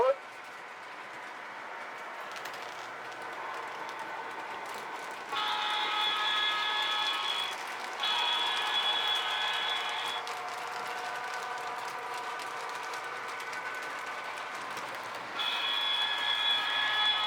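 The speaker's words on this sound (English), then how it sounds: "Now departing on track 1 for Hopkinsville, Tennessee Central." A Tennessee Central Railway passenger train departs from a station with a steady rolling rumble and repeated horn blasts, while voices talk in the background.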